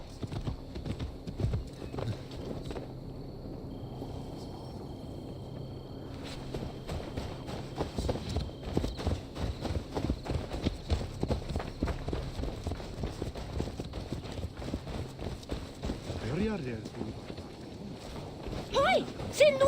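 Horse hooves clip-clop steadily on a road in the Assassin's Creed Valhalla video game, a continuous rhythmic patter heard close and moderately loud beneath in-game voices and background music.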